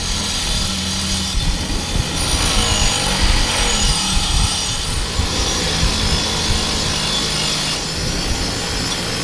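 Rust scale is scraped and ground off a metal piece, a continuous harsh, rasping abrasive noise at close range that stays loud and steady throughout.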